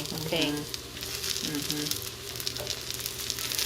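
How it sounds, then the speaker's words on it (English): Vegan meatballs searing in hot oil in a cast iron takoyaki pan give off a steady close sizzle and crackle, with a person talking briefly over the frying. "you can use your takoyaki cast iron little pan to get a good sear"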